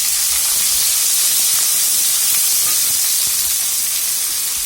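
Chopped onions and mustard seeds sizzle loudly in hot oil, a dense, steady, close hiss that holds without a break and with no voices.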